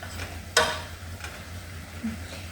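Onions cooking in a soup pot, a soft continuous sizzle with low rumbling and a few brief stirring clicks, heard close up.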